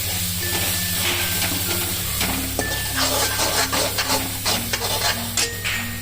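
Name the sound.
stirring vada manchurian gravy in a pan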